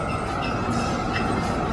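Tram rolling along rails during a walkabout, a steady broadband rumble with wheel and track noise that holds evenly throughout, close by and continuous, no voices over it.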